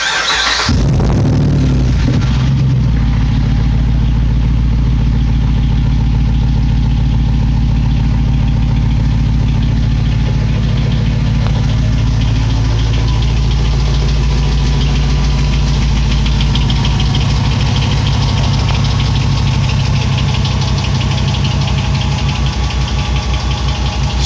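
A 2006 Jeep Grand Cherokee Limited with a 5.7 Hemi and resonator-delete exhaust through a straight-through muffler fires up with a loud starter burst, then settles into a deep, rumbling idle that stays close and steady.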